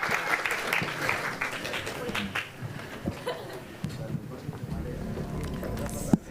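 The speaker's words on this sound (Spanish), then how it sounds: "Un fuerte aplauso para ellos, por favor." Applause from an audience at a gaming championship and encounter, strongest at the start and thinning out, with voices and some laughter mixed in as it fades.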